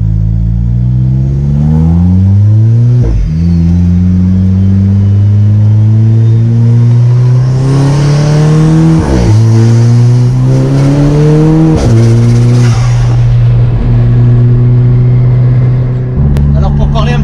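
A supercharged Lotus Exige engine revs loudly close by as the car arrives, rising through gears with sharp shifts and a whining drone, while people talk over it.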